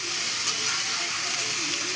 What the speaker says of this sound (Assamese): এতিয়া উৰহি ভাজিম